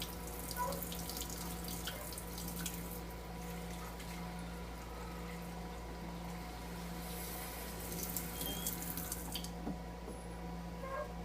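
Warm water runs steadily from a tap into a sink as an enema solution with dish soap is prepared, a continuous close hiss with faint drips and no talking.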